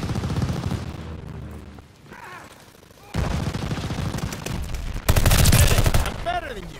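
Rapid automatic gunfire from the Call of Duty: Vanguard multiplayer video game, loud bursts that build in intensity across the clip, with a heavy final burst, mixed with game sound effects and no one talking.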